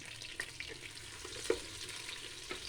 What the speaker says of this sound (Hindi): गोभी के फ्लावर्स को हमने फ्राई कर लिया है।